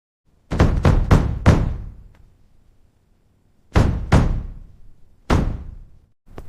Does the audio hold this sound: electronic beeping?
no